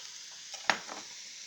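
Peppers and onions fry on medium heat in a non-stick pan with a steady soft sizzle, broken by a few light scraping stirs and one sharper utensil tap.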